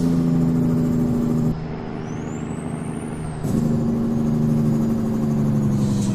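A Kenworth T800 truck hauling a car carrier in American Truck Simulator drones with a loud, steady engine hum that dips briefly and then resumes at full strength, with a faint rising whine partway through.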